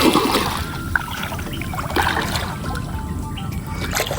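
Feet wade through shallow, muddy water with soft sloshing and trickling splashes, close by and continuous with a few sharper splashes.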